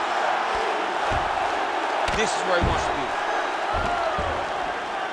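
Arena crowd roaring and cheering at the Miocic versus Fedor heavyweight MMA fight, a dense steady wall of noise with swelling shouts, running under a commentator's voice.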